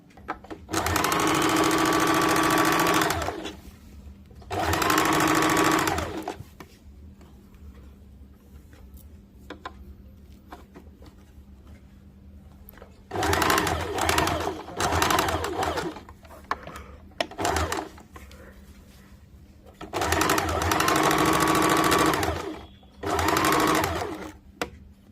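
An electric sewing machine running a double line of stitching on a bias-cut churidar, loud and close in several sustained bursts of whirring separated by quiet pauses for repositioning the fabric.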